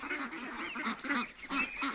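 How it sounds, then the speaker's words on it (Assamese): Ducks quack and honk in a lively, overlapping chorus on a farm holding about 2,500 to 3,000 ducks, several birds calling close together without pause. "এতিয়াও আমাৰ ফাৰ্মত প্ৰায় 2500ৰ পৰা 3000 হাঁহ আছে"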